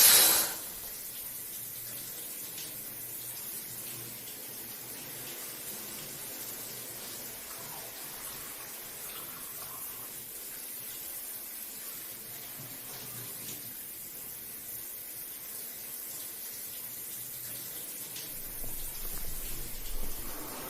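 Shower water runs steadily into a bathtub as a woman washes, a constant hiss of spray that holds at an even level throughout, with no talking.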